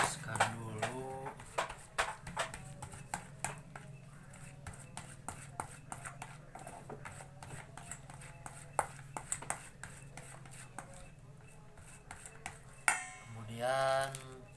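White fishing bait being mashed in a container, with steady scraping and tapping clicks throughout while a person talks over it.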